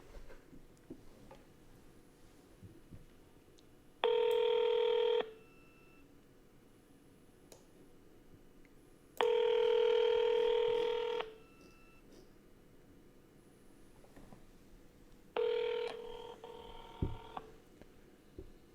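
Three long electronic ringing tones sound at intervals, separated by quiet gaps with faint background noise, heard through a phone speaker.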